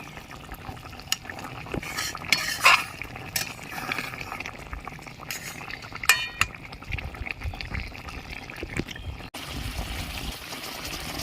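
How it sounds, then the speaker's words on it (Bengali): Fried tilapia pieces going into a pot of boiling mustard-poppy gravy with a little mustard oil poured in, heard as bubbling and gentle stirring with occasional spoon clinks and soft splashes, close by and without speech. "ঝোল ফুটে উঠেছে ভেজে রাখা মাছগুলো দিয়ে দিচ্ছি সামান্য একটু সর্ষের তেল দিয়ে দিচ্ছি"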